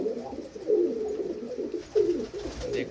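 Famous blue pigeons of Jarnail Kanewale giving repeated low, throaty coos in short phrases, fairly faint and close, alone without talk.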